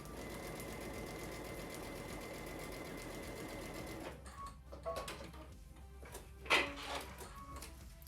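A sewing machine runs a quilt panel seam in one steady, close whirring burst for about four seconds, then stops, followed by a few soft handling clicks and rustles.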